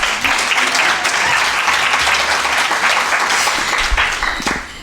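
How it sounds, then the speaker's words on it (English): A seated audience applauds at a World Down Syndrome Day symposium opening, a loud burst of mixed clapping from many hands that holds steady and then tapers off near the end. "Can you please clap hands for us again?"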